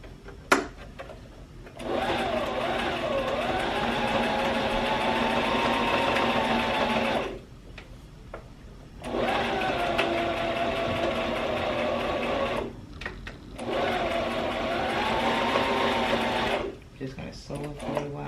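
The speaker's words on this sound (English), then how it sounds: "Just gonna sew it for a while." Sewing machine stitching a double peplum top, running in three long steady bursts separated by short pauses, close and fairly loud, with a voice speaking briefly between runs.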